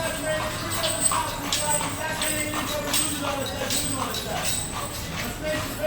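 Horse hooves clip-clop in an irregular rhythm amid a busy, noisy outdoor background with voices.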